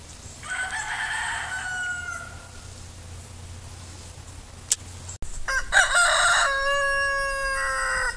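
A rescued baby deer cries out in high, drawn-out bleats, one call early on and a longer run of repeated cries after a brief break, close and fairly loud over a steady low background hum.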